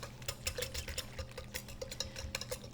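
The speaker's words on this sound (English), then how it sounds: "A whisk is best to get all the powder thoroughly mixed in and broken up." A whisk stirring powder into a milk mixture in a bowl, quick rhythmic ticking and scraping strokes against the sides, close and fairly quiet.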